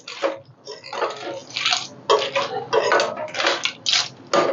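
Water splashes and pours into a cooking pot of clam and spice curry, coming in several uneven bursts with clinks of metal, close and fairly loud.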